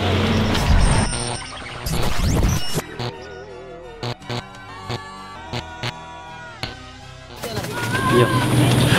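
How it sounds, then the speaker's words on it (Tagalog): A truck passes on a street with loud broadband engine rumble at the start and again at the end, and a brief hiss between them, while short sounds and pigeon-like coos come and go. "Padaanin muna natin yung truck, baka malibang pa sila."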